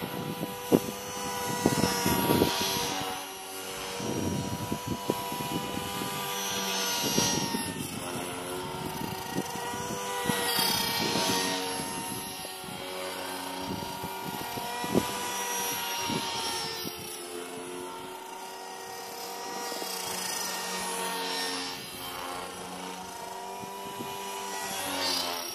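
Align T-rex 450 Pro DFC RC helicopter running, a close whining rotor and motor drone with shifting pitch and a possible bad bearing noise, steady for the full length with no voices.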